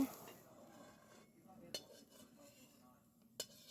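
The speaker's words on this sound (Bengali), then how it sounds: "এবার আমি কড়া থেকে বিনসগুলোকে নামিয়ে নেব" Fried beans are lifted out of a kadai with a metal utensil, giving two sharp clinks against the pan over quiet background noise, close but soft.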